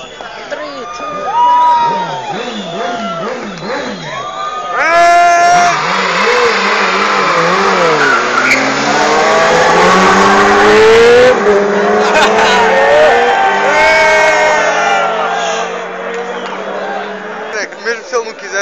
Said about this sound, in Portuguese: ele levanta e não é com a embreagem, é só acelerar